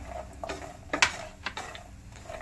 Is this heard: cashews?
yes